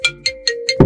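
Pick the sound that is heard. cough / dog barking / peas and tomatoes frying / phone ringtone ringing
phone ringtone ringing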